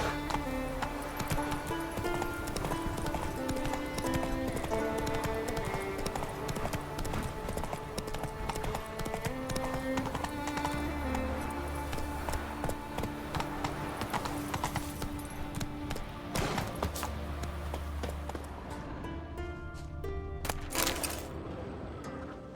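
Steady clip-clop of a galloping horse in The Witcher 3, running continuously over a bed of game music, with a brief whinny and a faint voice near the end.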